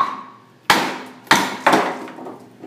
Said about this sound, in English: how durable this is while I'm hitting it with a hammer